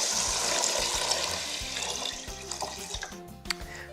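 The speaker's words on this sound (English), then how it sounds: "4 cups of water." Water is poured into a pot holding orange lentils for a curried lentil dish, a steady close splashing rush that tapers off over the final second.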